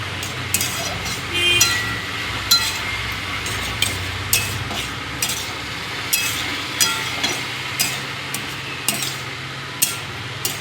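Egg and spring onion curry being stirred in a pan, with a steady run of light metallic clinks and scrapes from the spoon against the pan over a low background hum, no talking.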